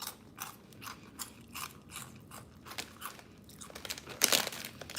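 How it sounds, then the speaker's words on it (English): Close, crisp crunching of crunchy Cheetos being chewed, a run of rhythmic bites and chews in quick succession, with a louder, sharper crunch near the end and no talking. "I'm eating crunchy Cheetos"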